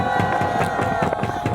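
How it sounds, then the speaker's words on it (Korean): Crowd at an outdoor anti-impeachment political rally in Pohang on a cold day, with steady dense clapping and cheering that carries through the whole moment and stays loud and continuous. "큰 박수 부탁드립니다"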